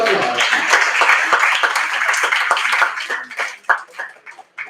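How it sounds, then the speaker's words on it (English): An audience applauds at a Sathya Sai conference and retreat session, a dense patter of many hands clapping that holds steady and then thins into scattered claps at the end. "Big round of applause."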